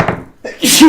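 A single sharp human sneeze bursts out close by during a tabletop Dungeons & Dragons game session, short and loud, with a faint murmur of talk around it.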